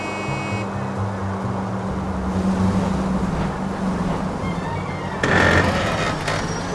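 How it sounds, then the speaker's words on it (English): Car in LA Noire VR braking while driving, a steady engine drone and road rumble followed by a louder burst of tire and brake noise near the end, close and continuous. "That sounds real good when you hit the brakes."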